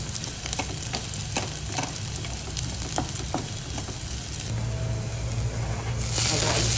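Onions sizzling in a pan of oil for an okra curry, a steady crackling fry with frequent sharp pops and a faint low hum underneath, close and moderately loud, no talk.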